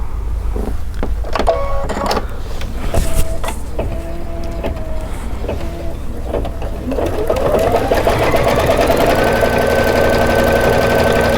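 An embroidery machine stitches a quilt project with a steady mechanical whir and rapid needle chatter. Brief start-stop bursts come first, then a continuous loud run with a rising motor tone.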